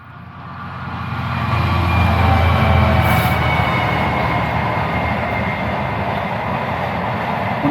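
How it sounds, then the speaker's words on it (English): A freight train passes close by on a path near a nature reserve, its heavy rumble rising over the first two seconds, then holding steady with grinding wheel noise and a brief high squeal. "It's a freight train."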